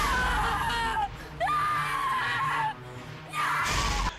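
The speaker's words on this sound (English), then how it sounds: "She's still got the annoying scream as before and the inability to run." A woman screams in the low-budget horror film Camp Blood 2, shrill cries in bursts over a soundtrack bed, with short gaps between outbursts.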